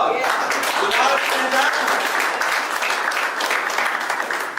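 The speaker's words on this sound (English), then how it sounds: "that deserves an applause" Sustained applause from a conference crowd in Dallas, a broad continuous wash of clapping with voices mixed in, fairly loud and fading slightly at the end.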